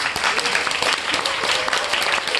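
Audience at a business presentation in a company headquarters breaks into loud, dense clapping, a continuous burst of many hands applauding together with no voices over it.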